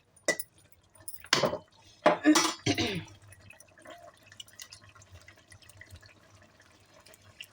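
Tamarind juice splashes into a pot of boiling okra curry, making a few short, sharp pours and clinks in the first three seconds before settling into a faint, low simmer.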